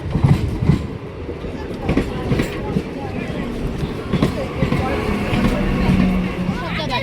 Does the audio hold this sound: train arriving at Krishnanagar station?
yes